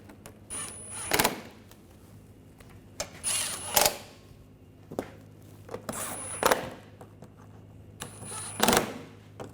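Ratcheting or power-tool bursts while tightening bolts on the thermostat housing of a 2009-2013 BMW 328i xDrive 3.0L, heard as four short separate bursts spaced a few seconds apart, fairly close, with a quiet shop background and no talk.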